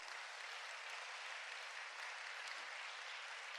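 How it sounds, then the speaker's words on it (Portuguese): A congregation at a church service breaks into sustained applause, a thick, even hiss of many hands clapping together with no voices over it. "Quem pode dar uma salva de palmas para o Senhor Jesus?"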